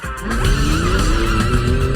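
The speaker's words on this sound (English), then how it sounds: "This car, it's too powerful. It just spins the frickin' tires" A powerful car spins its tires, a loud, continuous engine roar with squealing rubber holding steady throughout.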